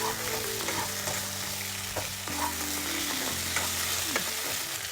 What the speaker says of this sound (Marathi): आपण यामध्ये शिजलेल्या शेंगा घालून घेऊया.